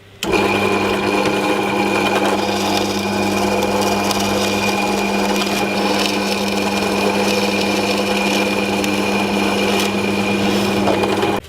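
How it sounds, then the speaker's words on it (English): Continuous high-pitched motor whine of a pillar drill press running steadily for several seconds with an M10 bit, with a constant hum and grinding as the bit cuts. "I'm going to use an M10 drill bit to drill through."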